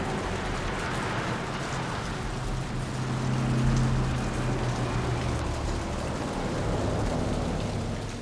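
Steady rain falls in the gothic city streets of Vampire: The Masquerade – Bloodlines, a dense, continuous hiss of drops with a faint low rumble beneath, even and unbroken, with no voices.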